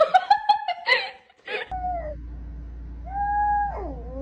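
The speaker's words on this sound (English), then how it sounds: "Aw, there's a cat." A cat in a short meme clip lets out several quick, high meows followed by a longer drawn-out wail over a low steady hum, close and fairly clear.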